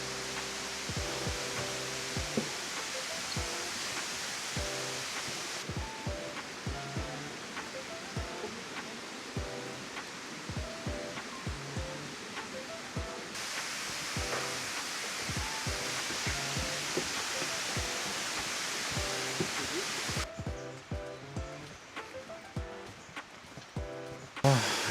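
A waterfall in Luang Prabang, Laos, gives a steady, broad roar of rushing water that holds even and continuous throughout, with no one speaking.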